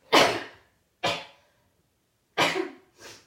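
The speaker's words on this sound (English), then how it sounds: "I'm gonna sneeze." Four sharp, explosive bursts, like sneezes or coughs, come close to the microphone with silent gaps between them, the last one softer.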